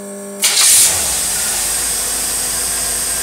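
A marine boat engine fitted with a rebuilt Rochester two-barrel carburetor starts with a quick burst and settles into a loud, steady running roar with a high whine on top, close by and without talking.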